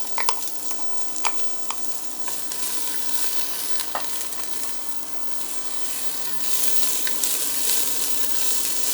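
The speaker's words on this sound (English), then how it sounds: "Now let's start adding the onions. I love that sizzle." Onions sizzle steadily in a hot pot for ramen, with scattered clicks and scrapes as they are stirred and moved around, no voices over the continuous frying hiss.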